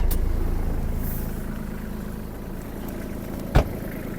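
A Kubota KT-27 mini tractor's diesel engine idles steadily with a low, even rumble, broken near the end by one brief sharp click.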